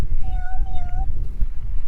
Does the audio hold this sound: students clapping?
no